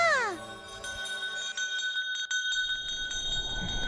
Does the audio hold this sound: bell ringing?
yes